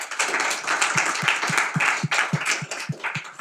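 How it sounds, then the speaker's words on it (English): An audience at a talk on cybersecurity and risk management applauds a newly named collegiate professor of engineering in a brief burst, with one nearby clapper's steady, evenly spaced claps standing out over the crowd. "Why don't we give a round of applause for that?"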